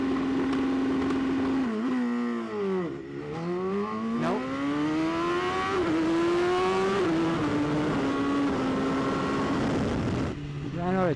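A racing superbike launches off the line on launch control at Canadian Tire Motorsport Park, its engine holding a steady high rev before rising sharply through the gears, loud and close to the rider throughout.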